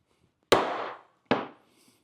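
A dome rivet setter struck with a hammer to set a rivet on a flip-top shave kit, two sharp loud impacts less than a second apart, each ringing briefly before silence.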